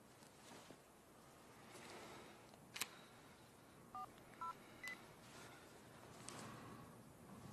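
Telephone number dialed in a Japanese yakuza drama scene: a few short clear touch-tone beeps in quick succession over a quiet room background, with a faint click before them.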